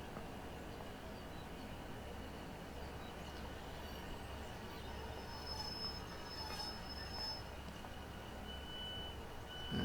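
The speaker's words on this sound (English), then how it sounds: "The train's just arrived." Train pulling into Manchester Airport station in the Train Sim World game, with a low rumbling drone, a faint high wheel squeal midway and a steady hum, no talk.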